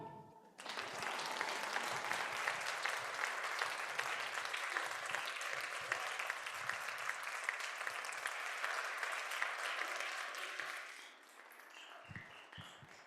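Sustained applause from a large church congregation at a Sunday service, loud and steady for about ten seconds before tapering off into scattered claps.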